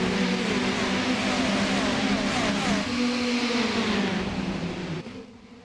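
Ferrari race cars in the iRacing sim racing at Daytona's high banks, a loud pack of engines droning and revving steadily together at the green flag, fading slightly at the end.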